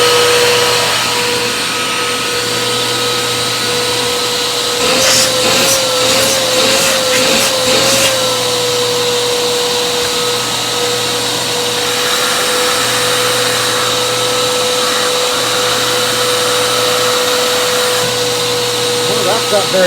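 A Eureka Dashsprint cordless stick vacuum with anti-tangle technology runs steadily and close by with a constant motor whine, while brief rattling bursts of debris pickup come in midway.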